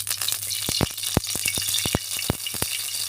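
Oil sizzles in a hot wok (kadai) at the start of a home curry, a steady fizzing hiss broken by sharp clicks and pops, close and alone with no talk.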